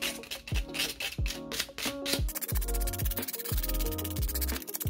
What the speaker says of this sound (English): So we are sanding these metal pieces